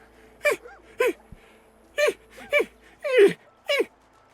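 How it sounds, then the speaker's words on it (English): A dog in the Divinity: Original Sin 2 video game squeaks a shiny red rubber ball, giving six short, whiny, squeaky bursts spaced roughly half a second apart, close and clear with nothing else underneath. "The dog squeaks the ball repeatedly"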